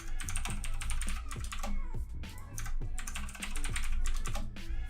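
Keystrokes patter on a computer keyboard while an email and password are typed, a close run of quick clicks in bursts with brief pauses and no talking.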